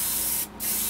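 Short burst of yellow spray paint hissing from a can onto a custom fishing lure, a close, loud airy spray that briefly pauses and resumes, with no talking.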